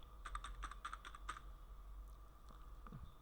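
Quick typing on a computer keyboard while entering accounting transactions in MYOB v17: a close, soft burst of rapid clicky keystrokes over about a second and a half, then a few scattered taps against a quiet low hum.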